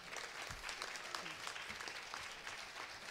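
Audience applause at a Dutch science café evening, a steady wash of many hands clapping for three guests, dense and continuous with light background murmur.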